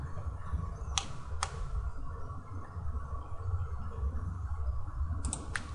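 Sharp, isolated computer mouse clicks, a couple early and a quick pair near the end, crisp and close over a steady low room hum.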